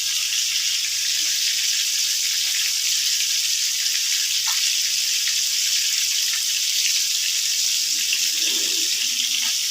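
Fish frying in oil for daiyng maach kalia, heard as a steady, close, even sizzling hiss that carries on unbroken for nearly ten seconds, with no voices.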